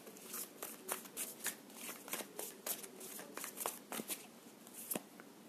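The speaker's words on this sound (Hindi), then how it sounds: "मैं इसके नीचे रख लूंगी कार्ड्स को।" Tarot cards are shuffled and handled close up, a rapid run of soft riffling snaps and flicks repeating in quick bursts, quiet and alone without speech.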